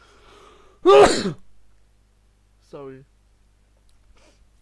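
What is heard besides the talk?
sneeze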